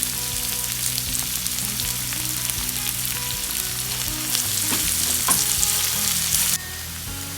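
Sliced onions sauté in hot oil with a pinch of salt for a Kerala beef liver pepper fry, a loud continuous sizzle with occasional stirring scrapes, briefly louder before settling slightly quieter near the end.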